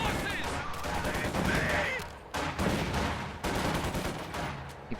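Gunfire in a war video game: rapid bursts of shots and several sharp cracks in quick succession over a busy battle backdrop, with a voice talking over the shooting.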